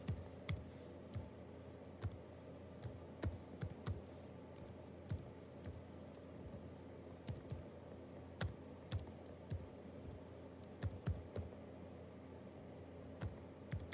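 Keys clack on a computer keyboard as a web domain is entered, irregular quiet taps in short runs over faint background hiss, with no talking.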